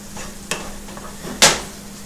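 Beef being stirred in a sweet and spicy sauce, two distinct scraping strokes against the pan over a low steady cooking sizzle, no voices.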